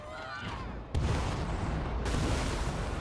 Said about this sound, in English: Oh wow, this bombardment cannon's pretty strong.